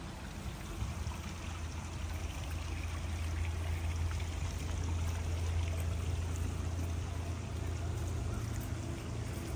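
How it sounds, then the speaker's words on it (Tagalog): Water flowing steadily toward a lake in Georgia, USA, a constant broadband rushing wash with low rumble, moderately faint and unbroken throughout with no voices. "Ayan po ang umaagos na tubig at diretso po dun sa pinaka-lake niya."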